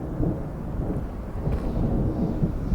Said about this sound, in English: We first set up camp at the Summit Lake South campground to the ominous sound of thunder.